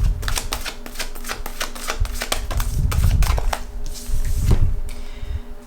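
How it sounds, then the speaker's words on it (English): Tarot cards are drawn and shuffled from a deck, a rapid run of crisp card flicks and slaps close by, then a softer rustle and a final snap. "I'm gonna go ahead and pull some cards of advice before you go."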